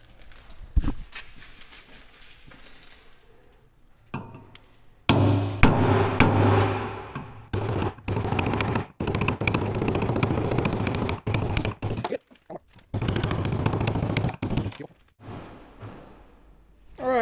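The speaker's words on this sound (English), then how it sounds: "I guess I'll go ahead and whack the nuts off and take them off that way" Metal hammer blows whacking hot nuts off the blades of a John Deere 6330 Alamo boom mower, sharp irregular clanks in bursts, loud and close, with a short pause in between.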